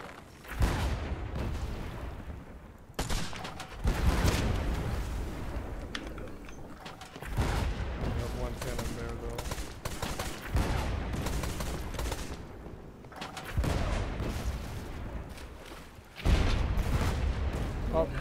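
Cannon fire and gunfire in the pirate ship battle game Blazing Sails, loud repeated booming bursts with clustered volleys, mixed with talk throughout.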